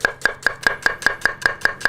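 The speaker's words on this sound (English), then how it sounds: "cut it in half, and then we want to slice it as thinly as possible" Knife slicing a halved red onion thinly on a cutting board, about ten crisp, even chops at a quick steady rhythm, close and clear with no talking.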